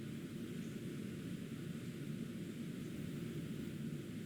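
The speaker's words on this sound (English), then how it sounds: "A couple of other things I left out for the end of the arrangement showcase is a white noise sample" A steady, even hiss of white noise, constant and unbroken throughout, fairly quiet with a low rumbling weight.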